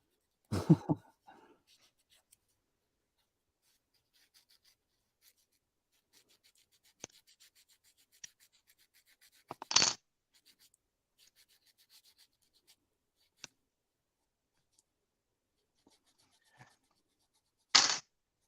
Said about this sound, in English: Just sanding a machine gun barrel.